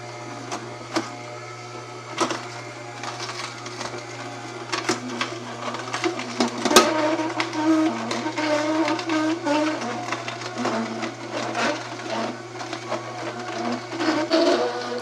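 A cold press juicer motor runs continuously with a constant low hum and grinding, whirring texture, loud and close, with scattered clicks and rattles throughout.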